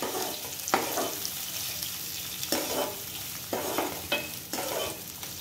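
Finely chopped onion is stirred and fried in a pan for kande pohe, soft sizzling broken by a few sharp spoon scrapes against the metal, close and without speech.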